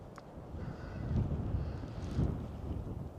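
Wind buffets the microphone in a steady low rumble, swelling in gusts, with no voices.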